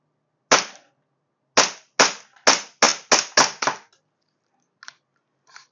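A gas airsoft pistol fires seven sharp, close shots in a quick irregular burst, followed by two fainter clicks as the gas runs low; no talking.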